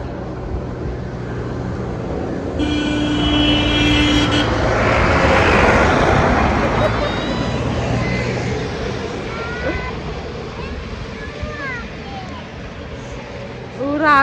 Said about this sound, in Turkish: Motor geliyor bir de.